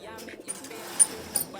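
Pigeons cooing inside a loft, low throaty coos close by with a few sharper chirps and rustles, while someone speaks quietly in the background.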